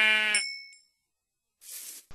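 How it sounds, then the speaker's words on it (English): Minecraft experience-orb collection chime, a bright tinkling ding that rings briefly then fades, followed after a pause by a short burst of softer noise; no talk. "it just played the regular experience orb collecting sound"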